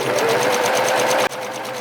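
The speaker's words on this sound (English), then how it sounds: "I will go back to my sewing machine and I will finish it off with the zigzag stitch" A sewing machine runs steadily while stitching a zigzag stitch on jeans, with a fast rhythmic whir that cuts off briefly near the end and then continues.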